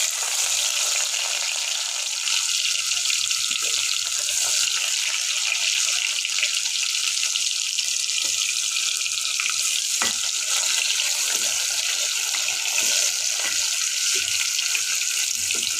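Chopped onions fry in a pot for fish pilau, stirred over a continuous loud sizzle with occasional scraping of the spoon against the pot.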